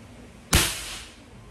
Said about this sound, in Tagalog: Putok nga natin kung malakas.